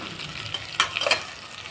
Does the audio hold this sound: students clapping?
no